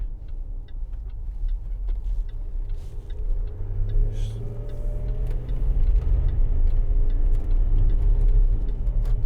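A 2011 Land Rover Discovery 4 with the 3.0 SDV6 diesel drives along, its low engine rumble and road noise building steadily as it pulls away, heard from inside with no talk.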